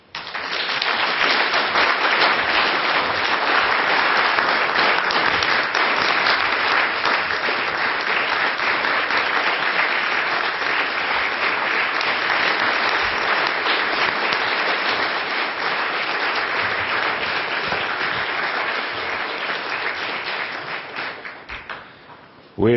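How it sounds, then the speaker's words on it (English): Conference audience applauding after a speech: dense, sustained clapping from a large crowd that holds steady for about twenty seconds, then tapers off near the end. "I think the applause that you received from the audience says it all."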